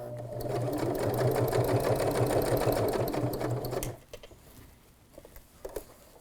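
A sewing machine stitches a fabric pencil case in a fast, even, loud mechanical chatter for about four seconds, then stops, leaving faint handling clicks.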